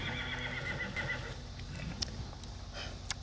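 Horses neigh and whinny with a steady clip-clop of hooves, at a summer camp where campers ride, the sounds close and continuous over a busy outdoor background.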